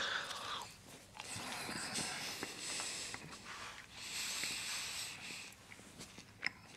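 Dried beef being chewed close up, with steady moist crunching and biting sounds over a low noisy background and one sharper click near the end, and no talking.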